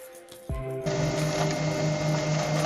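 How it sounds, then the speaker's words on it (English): A self-propelled vacuum sweeper starts up and settles into a loud, steady mechanical whine and rushing suction hum, heard close with no talk. "This is a self-propelled vacuum sweeper."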